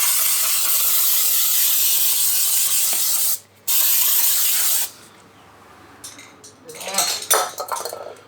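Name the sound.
spray onto brake parts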